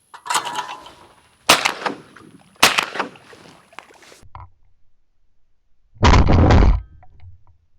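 A shotgun fires at skeet targets, giving a few sharp, loud reports spaced a second or so apart, then a heavier muffled blast after a quiet gap.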